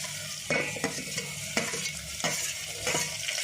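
Tomatoes sautéed with softened onions in a pan for chicken masala give a steady close sizzle, broken by regular scraping stir strokes about every half second to second, with no voices.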